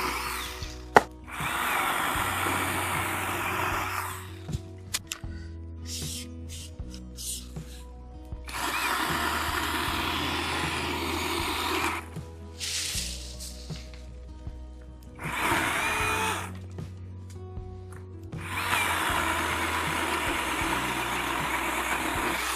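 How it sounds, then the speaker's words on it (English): A chainsaw cuts overhanging tree limbs outdoors, with loud, sustained cutting bursts alternating with quieter idling between cuts, close and alone without talk. "I'm gonna cut these limbs right here that have been in my way forever."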